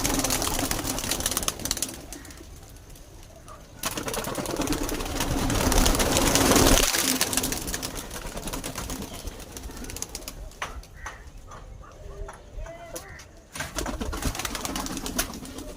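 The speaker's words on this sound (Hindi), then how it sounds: "बहुत ही लाजवाब कबूतर है" Pigeons at a loft in Nagpur coo steadily and flap their wings nearby, with murmured human voices and background noise rising and falling around them.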